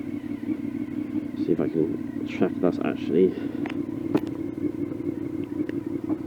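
A Honda VFR750 motorcycle idles with a steady low exhaust hum recorded close to the pipe, a constant droning tone under a voice talking intermittently over it.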